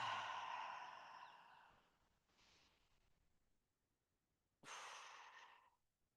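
Slow, audible breaths during a yoga pose: a long exhale, a quieter breath, then a sharp deep inhale, close and with no talking.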